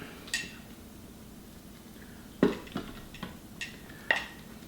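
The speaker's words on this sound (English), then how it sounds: "Just give this a quick stir" A utensil stirs and scrapes steel cut oats in an Instant Pot pot, with a few scattered metallic clinks and scrapes at irregular intervals over quiet background noise, no talking.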